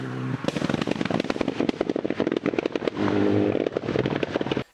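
A turbocharged car running rally-style anti-lag fires rapid, loud exhaust pops and bangs in irregular bursts, like crackling gunfire, with a brief steady engine roar in between.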